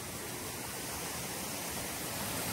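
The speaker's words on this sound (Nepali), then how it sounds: "यत्रो ठुलो खोला आउँछ" A large rain-swollen mountain stream in a Nepali village, flooded across the road, giving a constant, even rushing roar of water that fills the whole clip without variation.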